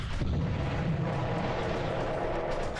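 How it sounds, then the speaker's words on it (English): Deep, booming bass gunfire from a guard tower in the PlayStation game Army Men: Green Rogue, a dense, continuous low rumble of heavy rounds with no pauses, loud and close throughout. "I was wondering what that super deep bass gunfire sound was"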